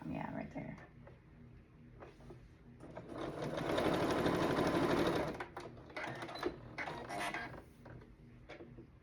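A sewing machine stitches quilt blocks for a red, white and blue quilt, running in bursts with a steady fast mechanical chatter that swells loudest in the middle, with handling clicks and a voice nearby.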